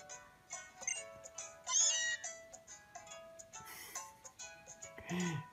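Meowth meows in Pokemon Sun, a run of short chirpy cat-like calls over soft game music, with a brighter squeal near the middle and a final call at the end.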